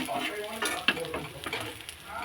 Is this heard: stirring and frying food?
yes